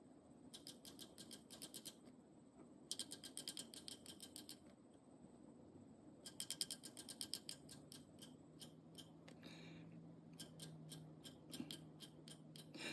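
Astro Tools Flex Head Nano 100-tooth ratchet clicking in quick, fine bursts of rapid ticks, several separate runs with short pauses between, crisp and close in a quiet room.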